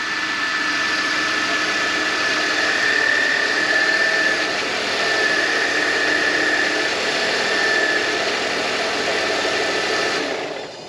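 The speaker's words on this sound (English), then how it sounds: "power steering pump's a little noisy" Noisy power steering pump on a 2005 BMW E83 X3 as the wheel is turned left to right, a steady loud engine drone with a sustained whine running through it, fading slightly at the end.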